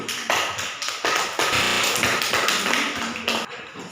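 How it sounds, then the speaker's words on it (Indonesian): A classroom audience applauds a student group after its exam presentation, with dense, steady clapping from many hands lasting several seconds, close and fairly loud with no talking over it. "Mari kita berikan aplaus dulu."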